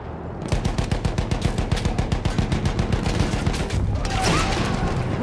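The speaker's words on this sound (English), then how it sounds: "Machine gun over there!" Rapid machine gun fire from Battlefield 1 rattles in a loud, sustained burst of evenly spaced shots, ending with a rumbling boom and a brief whistle near the end.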